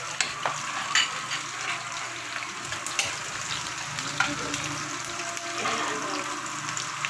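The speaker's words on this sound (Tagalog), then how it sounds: "Igisa tayo ng bawang sa sibuyas," Garlic and onion sautéing in a hot pan, a steady close sizzle with scattered clicks and scrapes of stirring, no voices.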